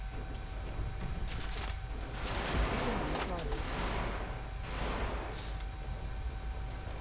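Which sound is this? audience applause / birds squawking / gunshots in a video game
gunshots in a video game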